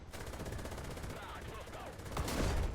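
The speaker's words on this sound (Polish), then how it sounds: "Strzelam do niego z pepanców." Anti-tank gunfire in the tank game War Thunder, a heavy cannon report bursting out late over a constant rumbling engine-and-battle bed.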